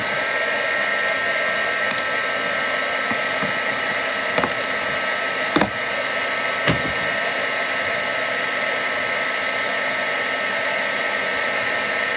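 A heat gun used for heat embossing runs continuously with a steady loud whirring blow, broken only by a few faint clicks and taps.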